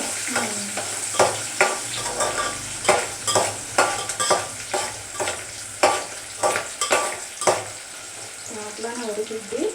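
Onions and green chillies fry in a pan with ginger garlic paste, a steady sizzle broken by repeated sharp scrapes and clacks of a spoon stirring, close and fairly loud.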